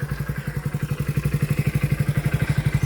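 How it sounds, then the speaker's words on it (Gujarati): A motorcycle engine runs close by with a steady, fast chugging pulse, growing slightly louder and quicker as the rider pulls away. "થોડું બાઇક સ્ટાર્ટ કરીને આપણે નીકળ્યા છે"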